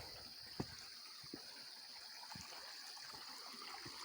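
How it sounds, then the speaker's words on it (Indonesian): Mountain river near Puncak Manik flowing as a soft, continuous hiss of running water, faint and distant, with a steady high whine over it and a few brief low knocks and thumps. "Ini kondisi sungai masih tetap sama."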